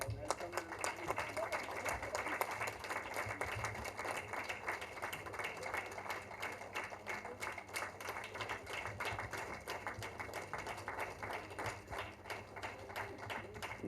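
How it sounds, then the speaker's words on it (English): Steady audience applause fills a hall at an award ceremony, a dense, even patter of many hands clapping continuously at moderate volume with a faint voice underneath. "Yes, please keep the applause going on."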